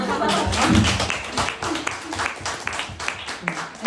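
A small audience at a short-film screening claps in a brief burst of uneven, fairly close hand claps, mixed with speech and some laughter.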